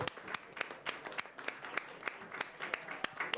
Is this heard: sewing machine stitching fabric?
no